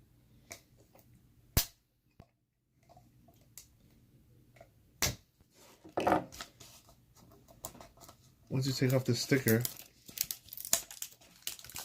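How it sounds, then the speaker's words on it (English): A sticker is peeled from a plastic Planters peanut container, with sharp snaps, scattered crinkles and a burst of ripping, tearing noise near the end, close and intermittent with quiet gaps and some talking. "once you take off this sticker"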